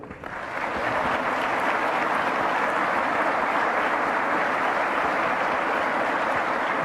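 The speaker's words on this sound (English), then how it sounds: "you can give him a big round of applause too" A large audience at a state of the state address breaks into sustained applause that swells within the first second and holds as a dense, steady roar of clapping.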